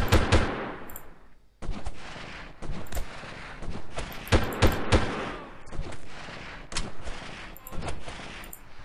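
Gunfire in the video game Delta Force during an Uzbekistan mission, sharp loud shots and short automatic bursts cracking at irregular intervals, some close and punchy, others fainter, with brief quiet gaps between volleys.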